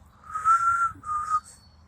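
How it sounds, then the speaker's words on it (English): A songbird sings in a garden, giving two short clear whistled phrases separated by a brief pause, fairly faint against a quiet background. "Do you guys hear that singing bird?"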